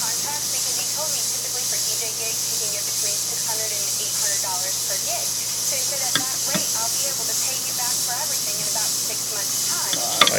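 Mini torch soldering a crack in a metal ring, a steady loud hissing flame running throughout, with faint background voices and small clicks.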